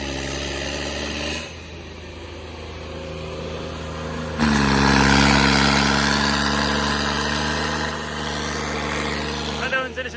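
A John Deere 5210 tractor engine idles loudly and close, then revs up to a higher, steadier pitch midway before settling back, a continuous diesel drone throughout.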